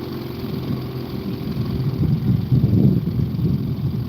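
A small fishing boat's outboard engine runs roughly near a launch, a steady low uneven rumble that swells slightly toward the middle, with no talk.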